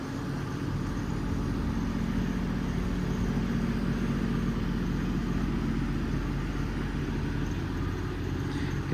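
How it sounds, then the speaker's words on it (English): An EnPak compressor unit mounted on a 2018 Ram 5500 4x4 Cummins diesel truck runs at a steady, continuous idle, a low droning engine hum that holds evenly throughout without any voices. "You can see the EnPak idles down when not in use."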